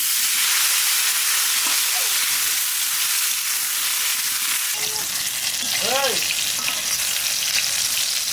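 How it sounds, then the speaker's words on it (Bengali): Eggplant pieces fry in hot oil previously used for frying fish, giving a loud, steady sizzle and hiss from start to finish, with a few faint tonal chirps partway through. "মাছ ভাজার তেলের মধ্যে বেগুন কাটাও ভেজে নেবো।"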